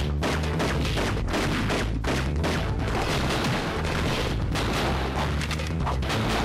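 Dense, continuous gunfire and thudding blasts from The Incredibles video game on the Game Boy Advance hammer away loudly throughout in a busy, compressed clatter, with no talk.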